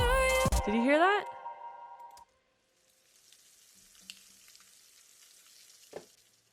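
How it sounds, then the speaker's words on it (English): Bacon sizzling used as a sound element in a song, a soft crackling hiss that follows a brief burst of sung vocal tones, quiet and steady with an occasional faint click. "One of them is the bacon sizzling."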